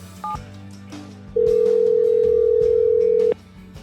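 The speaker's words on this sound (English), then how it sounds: "my phone's making the cool dialing noises" A phone gives a few short dialing tones, then a long steady beep lasting about two seconds that stops abruptly, all fairly clear with faint room sound around it.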